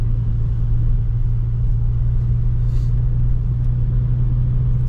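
Rear-wheel-drive Kia Stinger climbing a slight snowy hill, its engine a steady low rumble heard from inside the cabin, constant and unbroken throughout.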